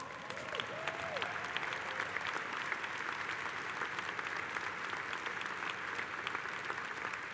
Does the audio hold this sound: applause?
yes